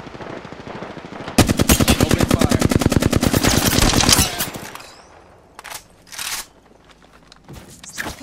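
Rapid automatic gunfire in the video game Apex Legends, a loud sustained burst of evenly spaced shots for about three seconds, followed by a quieter pause and a few short, sharp bursts near the end.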